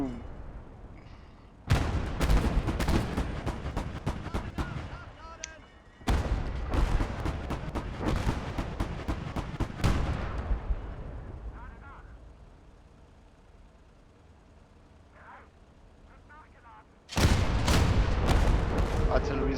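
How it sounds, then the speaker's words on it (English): Artillery firing in the war game PTSD Sim: three long bursts of heavy booming barrages with rumbling blasts, separated by quieter lulls with distant ambience and a talking voice. "Artillery's firing."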